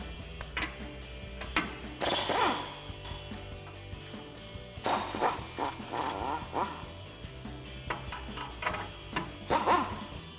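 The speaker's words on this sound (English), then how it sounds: "We're going to be using a 21 millimeter socket and an impact." An impact wrench with a 21 mm socket loosens the lower nuts on a 2004-2020 Ford F-150 rear support bracket, firing in three short rattling bursts separated by quiet pauses.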